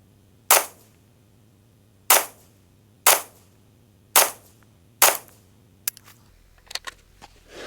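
Rifle fitted with a dog-leg dust cover and optic fires five spaced, sharp, loud shots on a range, each with a short decay, followed by a few fainter clicks and handling noises.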